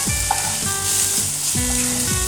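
Chopped tomato, turmeric and chili powder sizzle in a pan for Bengali ghugni, a dense, loud frying hiss with stirring, overlaid by repeated falling tonal sweeps, and no one speaking.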